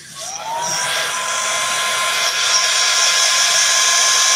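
A hair dryer blasts air to dry a piece of artwork, starting with a rising whine and then holding a steady, loud, close whoosh for several seconds with no talking.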